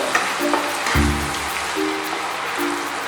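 Pointed gourd and potato pieces frying in a pan with salt, turmeric and a little sugar, giving a steady soft crackling sizzle, close and alone, with a brief louder burst of spattering partway through.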